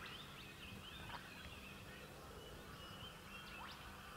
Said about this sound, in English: Begin to be bathed by the sound of the birds